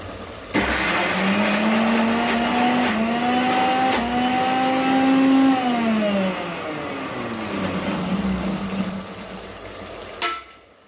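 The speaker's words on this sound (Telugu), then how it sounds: "గోంగూర ఇందులో వేసాను జార్లో వేసాను మిక్సీలో పట్టాలి" An electric mixer grinder whirs loud and close as it blends boiled gongura (sorrel) leaves in a jar, a steady motor whine that dips and rises in pitch before cutting off abruptly near the end.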